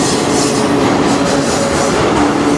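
A CN manifest freight train with CN 8961 and CN 2514 locomotives rolls past near Sarnia, making a loud, steady rumble of wheels and railcars with faint squeals, close by.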